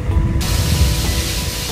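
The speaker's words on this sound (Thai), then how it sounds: "เครื่องดูดควันและสปริงเกอร์จะทำงานโดยอัตโนมัติ" Automatic fire sprinklers in an exhibition hall start abruptly with a loud, steady hiss of spraying water that continues without a break.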